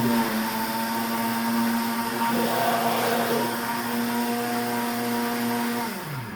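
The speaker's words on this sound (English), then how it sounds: "I'm going to just use this blender" A blender runs steadily as it purees a spinach smoothie, a loud continuous motor whine with a churning roar that holds for several seconds and then begins to wind down at the end; no one speaks.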